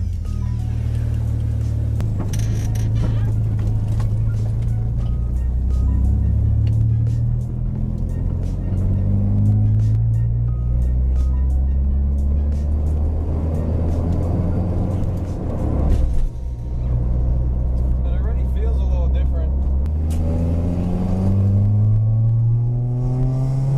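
A car engine rumbling close up as it is driven, revving up and down repeatedly in loud, continuous swells, with a brief dip and clunk partway through.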